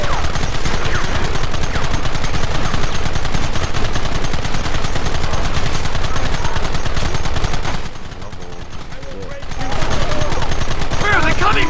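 Dense, continuous gunfire from Red Dead Redemption fills the scene with rapid shots and volleys at close range, easing briefly before resuming loudly.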